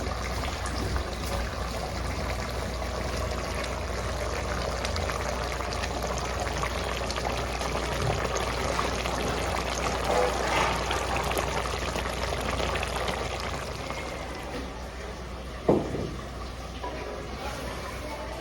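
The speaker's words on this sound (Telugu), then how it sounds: "ఈ నీళ్ళన్నీ వంపుకొచ్చేస్తానండి నేను" Water pours and streams steadily out of a pot of rice being drained, for a long stretch, with a brief clunk near the end.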